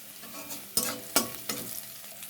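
Garlic and turmeric fry in hot oil during prawn and taro-leaf cooking, giving a close sizzle broken by three sharp scraping stirs, with no voices.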